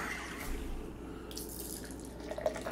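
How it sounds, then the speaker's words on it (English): Samuel Adams Nitro IPA beer pours into a glass with a steady liquid splash and trickle, close and moderately quiet, running alone without talk for a few seconds. "I'm not going to pour this completely in here"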